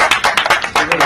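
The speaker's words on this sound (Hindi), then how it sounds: "ताली ताली ताली" A crowd of people clapping at a celebration: close, sharp claps in a quick, uneven rhythm, about eight bursts in a second, with voices mixed in.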